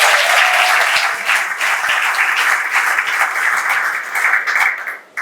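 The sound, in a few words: audience applause at a wedding ceremony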